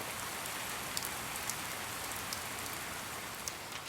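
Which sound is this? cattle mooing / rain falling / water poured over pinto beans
rain falling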